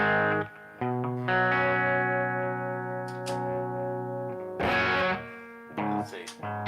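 An electric guitar played through a rack effects unit on a stock patch gives sustained distorted chords with chorus and echo, ringing notes separated by brief pauses, with a voice heard in places.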